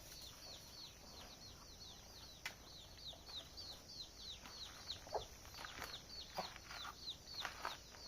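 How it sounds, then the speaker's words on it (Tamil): Chicken chicks cheep in a rapid, steady stream of high, repeated peeps, fairly close and continuous over a low background murmur. "வேறு எதுவும் இல்லைங்க, கோழி குஞ்சு தான்."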